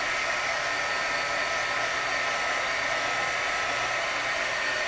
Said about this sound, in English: I am just going to heat because I think they look a little bit wet right here, so I'm just going to lightly heat them to dry them